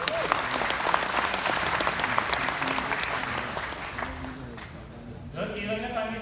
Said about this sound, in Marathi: त्यासाठी आपल्या स्वतःसाठी एकदा जोरदार टाळ्या होऊन जाऊ द्या